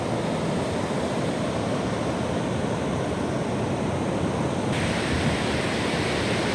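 Steady, loud rush of sea waves breaking on the shore at Bauang, La Union, a continuous wash of noise with no voices.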